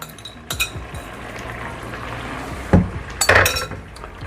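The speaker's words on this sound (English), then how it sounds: "we are gonna put in the shrimp" Shrimp dropped into a pot of simmering coconut curry, a few sharp clinks and clattering of a utensil against the pot over a steady low sizzle.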